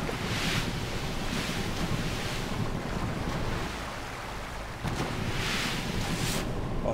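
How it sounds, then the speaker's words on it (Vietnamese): Heavy ocean waves in GTA 5, out at sea aboard a boat that has run out of fuel: continuous loud surf mixed with wind and microphone-style rumble, swelling and easing briefly near the middle, with no talking. "ngoài đây sóng sóng biển nó lớn các bạn"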